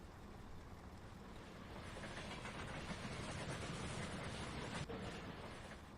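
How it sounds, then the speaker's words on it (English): A train passing in the trucking game Euro Truck Simulator 2, a steady rumbling rail roar with faint clickety-clack that swells gradually and holds loud, distant-to-near, with no voices. "Okay, so there's a train."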